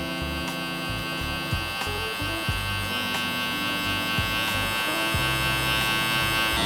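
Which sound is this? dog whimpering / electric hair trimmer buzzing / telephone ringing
electric hair trimmer buzzing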